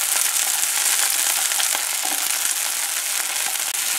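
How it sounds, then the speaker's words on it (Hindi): Peas fry in a little oil with a steady, close, hissing sizzle and small crackling pops throughout, with no voices. "थोड़े से ऑयल में मैं डालूंगी थोड़े से मटर और इनको फ्यू सेकंड के लिए पकाना है।"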